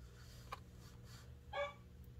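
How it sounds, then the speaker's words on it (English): An elderly 14-year-old Yorkie, mostly blind, gives two short barks, the first brief and the second a little longer, quiet and somewhat distant over a steady low hum in a pottery workspace. "There's my dog barking."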